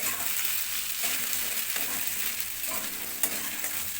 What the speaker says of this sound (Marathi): आता मिक्स करून घेऊया आपण।